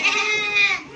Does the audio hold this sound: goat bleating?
yes